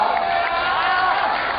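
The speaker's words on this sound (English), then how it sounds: "The applause you can hear is for the home. It's from his countrymen." A stadium crowd at a Chongqing, China climbing World Cup speed event cheers and applauds a Chinese home climber, a continuous, moderately loud, somewhat distant roar of voices and clapping.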